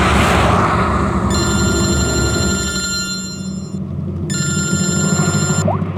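A phone rings in two long, bright electronic bursts over steady background road noise, close and clear in a crime drama scene.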